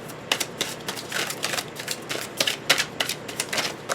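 A deck of tarot cards being shuffled, with a rapid run of crisp, riffling card clicks and flutters. The sound is close and fairly loud, and there is no talking.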